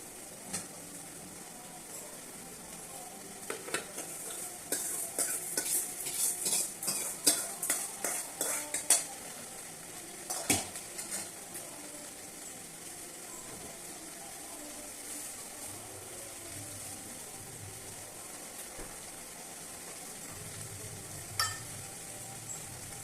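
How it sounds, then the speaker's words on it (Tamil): Okra sizzles and crackles steadily in a hot pan, with a burst of stirring and utensil scrapes early on, then quieter frying continues alone. "வெண்டைக்காய் அப்படியே ஃப்ரை ஆகிட்டோம்"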